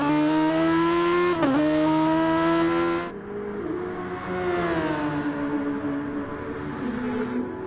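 Buzzing, high-pitched RC race car engines whine as the cars lap a track at Dragon Trail Gardens during a Super Formula finals night, the pitch sliding up and down as they pass and rev, loud and steady throughout.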